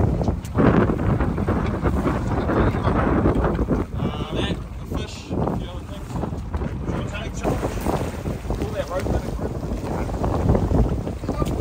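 A boat races fast across open water on a southern bluefin tuna fishing trip, its loud, steady engine and hull roar buffeted by heavy wind noise throughout, with a voice faintly present.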